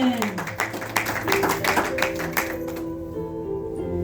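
A church congregation claps during a sermon, with rapid irregular hand claps and light cheering through the first few seconds before fading out, and a voice speaks over it.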